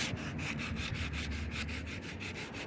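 Rapid back-and-forth scraping of 40 grit sandpaper over cured Bondo body filler, a rough rhythmic rasp of roughly three strokes a second, close and loud.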